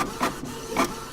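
A magical spirit scribe writes ink onto paper with a printer-like mechanical whir, heard as two short, scratchy, loud bursts close at hand.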